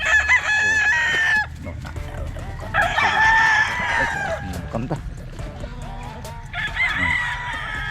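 Strong fighting gamecocks on a large farm near Bacolod crow loudly and repeatedly, three long crows rising over a background of clucking fowl, while someone talks briefly in between.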